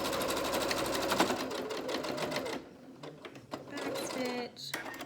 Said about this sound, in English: we are actually going to have to stitch those sides that we pleated on the edges